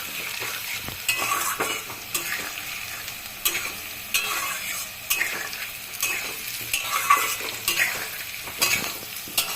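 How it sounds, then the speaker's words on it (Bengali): Fried potatoes and onions are stirred in a pan, a steady sizzle running throughout, with scraping strokes of the spatula and occasional utensil clicks against the metal. "এখন হলো গিয়ে নাড়াচাড়া করলাম, পেঁয়াজটা ভীষণ কড়া হয়ে যাচ্ছে"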